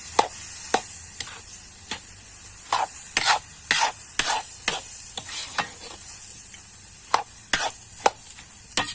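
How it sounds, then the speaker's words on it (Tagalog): A spoon stirs a coconut milk stew of heart of palm that has started drying out in the pot, making repeated sharp scrapes and clacks against the pan in an uneven rhythm over a steady low background, close and fairly loud. "haluin lang po natin mabuti guys para maano po yung gata kasi natuyo na po siya eh"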